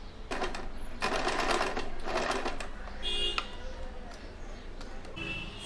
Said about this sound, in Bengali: সেম এই দিকেও একটা সেলাই করে নেব